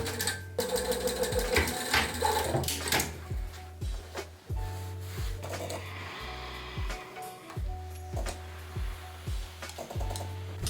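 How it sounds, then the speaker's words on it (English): Sewing machine stitching a cream corduroy pinafore dress, a steady mechanical whirr of needle strokes in repeated runs with brief stops between them, close and clear with no talking. "Now that is pinned and I'm going to sew that."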